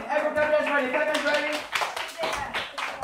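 Children clapping at a birthday party, scattered uneven claps mixed with an adult talking and kids' voices close by in a lively indoor room.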